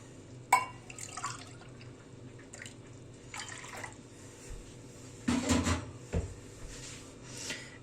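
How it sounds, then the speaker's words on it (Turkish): Warm milk being poured for a Trabzon-style pide dough, with faint liquid trickles and drips mixed with a few light clinks and knocks of kitchen containers, quiet overall. "Evet iki buçuk su bardağı ılık süt kullanıyorum."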